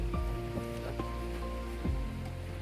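Rain patters steadily, close by, on a makeshift sack shelter. The hiss is constant with a few soft thumps and a faint tonal hum beneath, and no one speaks.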